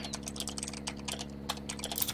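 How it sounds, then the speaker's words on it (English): Fast typing on a computer keyboard during a Roblox gaming session, with dense, steady clicking of keys close by over a constant low hum. "I'm typing."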